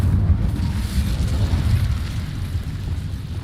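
An incendiary fire spell bursts in Hogwarts Legacy, a low, rumbling, booming roar that stays heavy and continuous for a few seconds before easing slightly.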